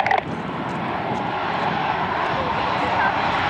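Aircraft engine noise at East Midlands Airport, a steady broad roar holding at constant loudness throughout, fairly near, with a brief faint sound at the very start.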